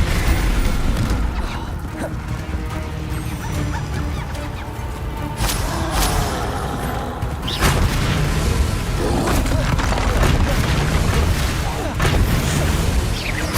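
Spell casts and explosions in the Hogwarts Legacy video game, with loud booming blasts and whooshing bursts over a dense, continuous game soundscape.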